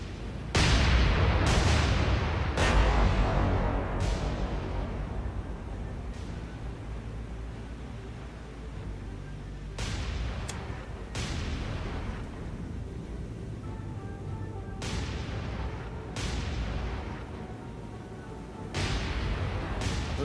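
Naval guns fire in the War on the Sea video game, a series of heavy booming blasts spaced irregularly, each with a long rumbling decay, some louder and some more distant.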